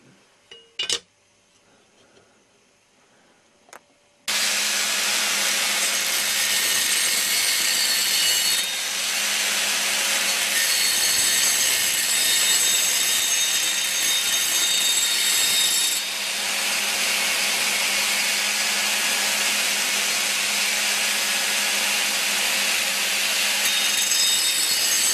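A hand saw cuts through part of an airsoft BAR 1918A2 gun build, the rasping strokes beginning after a few faint knocks and then running loud and continuous, with one brief pause partway through.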